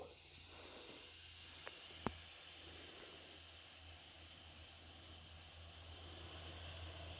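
Baking soda and vinegar reacting in a container, a faint continuous fizzing hiss heard close up, with a couple of brief sharp clicks partway through and no voices.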